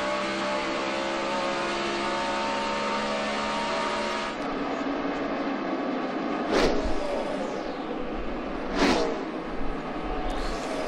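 NASCAR Sprint Cup race cars on track at California in 2011, a dense continuous engine roar with two loud cars sweeping close past in quick succession near the end.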